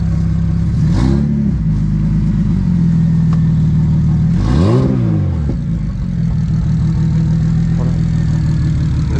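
BMW 335 with a single-turbo engine idling loudly and close, rising in two sharp revs, one brief and one longer sweep, before settling back to a steady idle.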